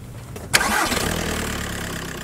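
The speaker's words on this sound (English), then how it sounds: "Turn the engine on." A Skoda Fabia engine cranks briefly and catches, then settles into a steady idle, heard close and alone.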